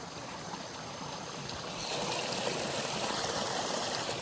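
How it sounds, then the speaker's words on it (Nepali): A long village waterfall rushes steadily, a dense broadband roar of falling water that stays close and constant, swelling slightly louder partway through, with no voices. "हाम्रो गाउँको सबैभन्दा लामो झरना हेर्नु"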